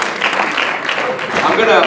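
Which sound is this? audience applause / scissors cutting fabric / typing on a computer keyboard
audience applause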